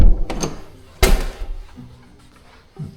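A door swings open in an abandoned house, with a couple of heavy thuds and rattles up close, then a faint creak and scuffing as the room beyond comes into view.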